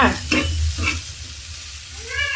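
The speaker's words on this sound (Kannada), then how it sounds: "ಖಾರ ಉಪ್ಪು ಅರಿಶಿನ ಎಲ್ಲ ಹಾಕಿದೆ ರೆಡಿ ಆಯಿತು ಬೆಂಡೆಕಾಯಿ ಫ್ರೈ" Okra fried in a pan with chili, salt and turmeric, a steady close sizzle with stirring scrapes, under brief speech.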